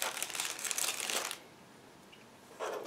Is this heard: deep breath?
no